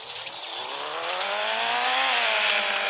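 A powerful car engine in the FR Legends drift racing game revs up, its tone rising smoothly and growing slightly louder over a few seconds, loud and continuous with no talk.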